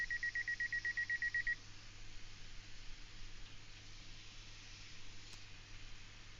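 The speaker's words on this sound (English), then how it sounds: "That's my phone." A mobile phone gives a rapid run of about ten evenly spaced electronic beeps over the first second and a half, then stops, leaving a steady hum underneath.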